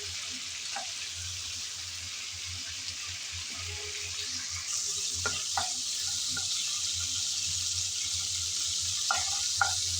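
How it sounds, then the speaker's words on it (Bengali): Chicken pieces fry in hot oil with a steady, soft hiss that continues throughout. Occasional brief clinks and scrapes are heard as the pieces are stirred, and no one speaks. "অনবরত নেড়ে চেড়ে চিকেন আমি 3-4 মিনিটের মতন ভেজে নিলাম।"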